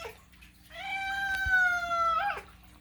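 A hungry pet cat lets out one long, loud, drawn-out meow close to the listener, rising into a yowling cry before it cuts off, with a quiet room around it.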